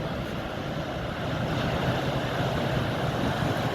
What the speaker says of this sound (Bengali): খুব সকালে আমি চলে এসেছি সি বিচে